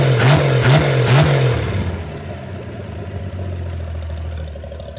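Close, loud Holden engine revived after sitting abandoned, opening with a few quick rising revs before dropping to a steady, rumbling idle.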